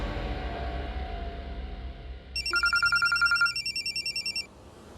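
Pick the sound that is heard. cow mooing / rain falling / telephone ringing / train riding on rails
telephone ringing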